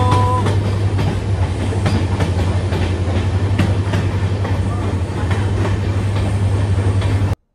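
The Kolkata Sairang Express enters tunnel number 4 on its run toward Mizoram, a loud continuous roar of rolling wheels with rhythmic clickety-clack beats and a steady low drone. It is heard from inside a carriage with no talk.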